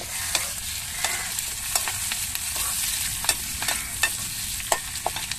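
Curry leaves crackling in hot oil while being stirred for an egg curry, a constant fizzing sizzle with sharp spoon scrapes and taps recurring roughly every half second, close by and without speech.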